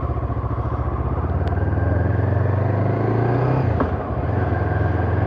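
A Honda CBF 500 motorcycle rides through city traffic, its engine holding a steady, close rumble with a brief dip and rise in revs near the end.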